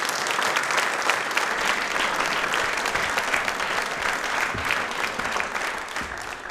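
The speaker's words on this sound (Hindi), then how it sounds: "एक बार तालियां जोरदार हो जाएं गजानन जी के लिए" An audience at a televised Ambedkar Jayanti quiz programme gives loud, continuous applause to a retired IRS officer guest, a thick unbroken roar of clapping throughout.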